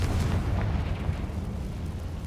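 A Hogwarts Legacy Confringo spell bursts into a deep, rumbling blast that booms up close and then rolls off into a fading low roar.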